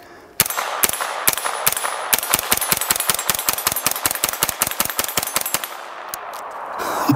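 An Aero AR-9 pistol-caliber carbine fires a long string of sharp, evenly spaced rounds, loud and close outdoors, with a short pause before a few final shots.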